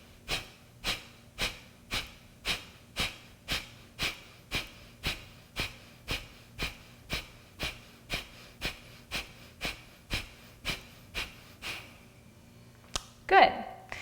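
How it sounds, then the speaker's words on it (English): Rapid rhythmic breaths in and out through the nose during a yoga breathing exercise for stress relief, about twenty even, close puffs in steady succession, ending with a louder rustle. "inhale and do this for anywhere from 20 to 30 breaths"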